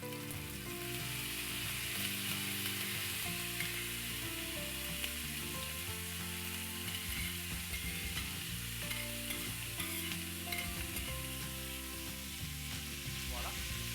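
Onions and chili peppers sizzle steadily in a hot pan for a salted fish dish, with a continuous loud frying hiss and scraping stirs throughout, close up and without talk.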